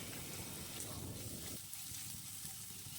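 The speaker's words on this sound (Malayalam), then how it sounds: "നല്ലവണ്ണം ഒന്ന് ഇളക്കി കൊടുത്തുകൊണ്ടിരിക്കണം." Ginger garlic paste sautéing in a pan for an egg curry, a steady close sizzle with faint stirring scrapes, continuous and even throughout.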